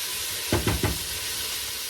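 Peppers sizzle in a pan under a loud steady hiss, with three quick stirring strokes close together near the middle.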